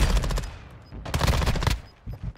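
Rapid automatic gunfire from Warzone 2 gameplay, loud bursts of shots in quick succession with a brief pause and a shorter burst near the end.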